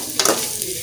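Vegetables, including tinda, frying in ghee in a kadai for a tinda gosht curry, a steady close sizzle with a quick stirring scrape, no voices.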